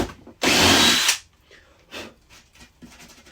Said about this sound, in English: just going to drill through very slowly